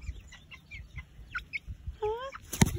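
Backyard chickens, a hen and rooster among raised chicks, give short clucks and rising calls, ending in a clear run of harmonic squawks with a brief bump near the end.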